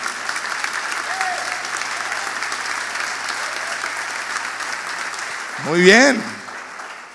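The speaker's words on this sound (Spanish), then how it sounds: "pongamos un aplauso de saludo a esa gente" Applause from a church congregation, a steady close wash of clapping that fills the space while someone speaks briefly over it near the end.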